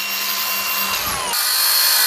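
An electric saw cuts through steel wire rope during repair work on port container or road facilities, a loud continuous high-pitched grinding whine whose pitch shifts partway through the cut, close up with no talking.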